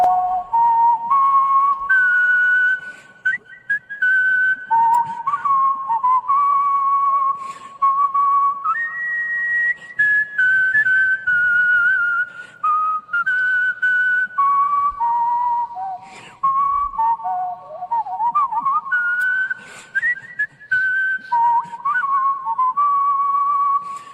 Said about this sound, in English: Here is the whistling.